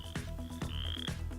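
Chorus frogs croak in a repeated series of three rasping, pulsed calls, close and fairly loud, with a steady high trill running underneath and no voices.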